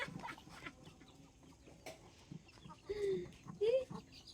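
Bangkok chickens clucking and calling in a yard, with two short clear calls near the end over a busy background of chatter and movement.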